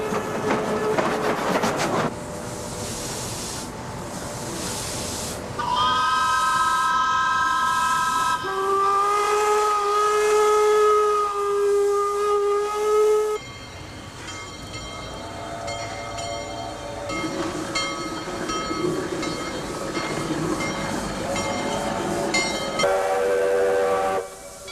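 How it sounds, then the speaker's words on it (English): Several steam trains gather for Steam Expo at Expo 86, the world's fair exposition, with long steam whistles sounding in sustained tones, some overlapping and chord-like, over a busy rumble of rail and crowd noise, loud and near throughout. "the week of Steam Expo brought a whole collection of steam trains together"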